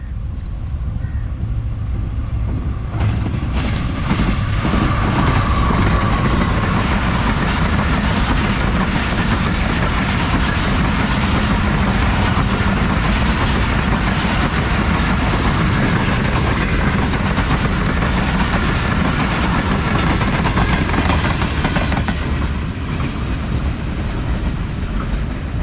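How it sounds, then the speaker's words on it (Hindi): A legendary Pakistani train passes Machi Goth railway station in a village setting, a loud, sustained rumble with rolling clickety-clack of wagons lasting over twenty seconds at close range. "पाकिस्तान की एक लेजेंडरी ट्रेन"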